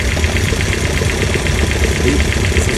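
An Alfa Giulia engine fitted with twin Weber carburettors idles during carburettor synchronisation, a loud, steady, close rumble with an even, fast pulsing beat throughout.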